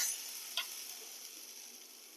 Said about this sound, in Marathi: वरून ह्याच्यावर आपण मिरचीचा तडका टाकतोय